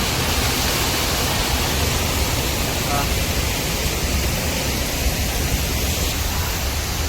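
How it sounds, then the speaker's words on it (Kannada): Water pouring down at Hogenakkal Falls, where people bathe beneath the flow, heard as a loud, dense, unbroken roar that stays constant throughout, with a voice faintly present under the noise. "ನೋಡಿ, ಯಾವ ಥರ ನೀರು ಬೀಳ್ತಾ ಇದ್ದಾವೆ."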